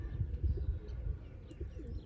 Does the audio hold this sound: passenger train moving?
no